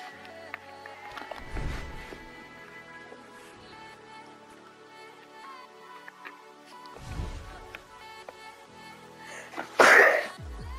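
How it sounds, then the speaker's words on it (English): One loud, close sneeze bursts out near the end, following a couple of muffled throat sounds earlier, all set against quiet video game music. "I had to sneeze,"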